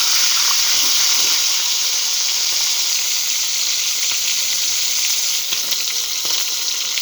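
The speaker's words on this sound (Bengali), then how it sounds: "এ পর্যায়ে এখন আস্তে আস্তে আমি চিকেনগুলো দিয়ে একটু ভেজে নেব।" Chicken pieces frying in hot soybean oil in a pan, a loud, steady close sizzle and crackle with occasional faint stirring.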